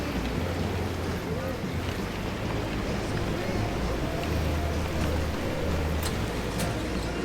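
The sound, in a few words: rain and wind outside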